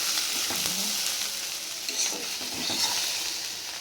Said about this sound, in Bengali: আলু কপি ভাজা হচ্ছে